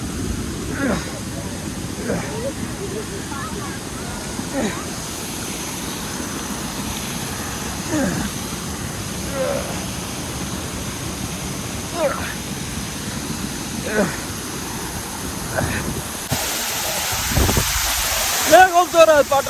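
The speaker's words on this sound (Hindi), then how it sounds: "खूबसूरत वाटरफॉल, ये आपको दिखाने लाया खूबसूरत।" Waterfall at Mount Cap Resort in Skardu, a steady rushing wash of falling water heard nearby throughout, with voices talking over it and some handling bumps near the end.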